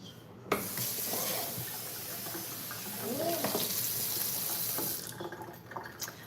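Tap water runs steadily into a kitchen sink while vegetables are rinsed after chopping for a veggie stir-fry, a continuous close splashing hiss with faint clinks, easing off near the end.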